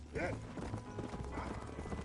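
A horse gallops in the video game Red Dead Redemption, its quick rhythmic hoofbeats steady and close, with a brief whinny-like tone early on beneath a busy game soundscape.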